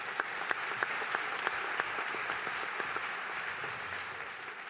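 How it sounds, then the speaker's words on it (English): Audience applause at a college information panel night, a steady crowd clapping with a few sharp, close hand claps standing out early, moderately loud and sustained. "would you give him a round of applause?"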